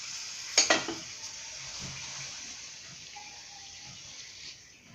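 Cooking oil goes into a heated kadai (wok) on the stove, with a couple of sharp metallic clinks followed by a steady, fading sizzling hiss and no talking.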